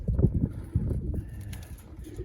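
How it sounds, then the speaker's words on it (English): Pigeons in a backyard loft on a sunny winter day coo softly in low, murmuring bursts, with light scuffling and rustling around them and no talk. "I get to hang out with the pigeons for a little bit"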